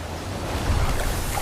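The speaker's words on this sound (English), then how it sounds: "Rapids." River rapids rush in a steady, loud, broadband roar of churning water with a deep low rumble and no voices.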